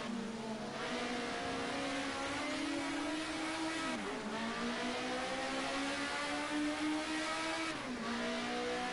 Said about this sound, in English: They hit the brakes for Hale Corner.